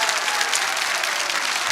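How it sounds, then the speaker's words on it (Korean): Brief, steady applause from a lecture audience at a Korean university professor's talk, a dense even wash of many hands clapping at once. "예. 박수."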